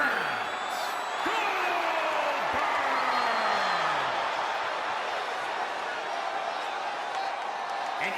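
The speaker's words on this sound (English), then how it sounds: "surrounded by the oohs and ahs of the crowd" A big wrestling arena crowd in WWE 2K20 roars with a steady, dense wash of cheering during a championship entrance, with a few sweeping tones sliding through the noise and no break in the din.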